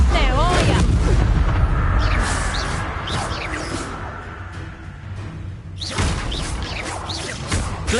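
Confringo spell blasts in Hogwarts Legacy: heavy booming explosions with whooshing bursts, several in quick succession, loud and close, mixed with shouted voices over the combat.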